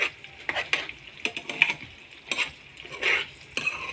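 Garlic egg fry is stirred in a pan with a utensil, irregular close scrapes and clinks over a light sizzle, in quick uneven strokes, with no talking.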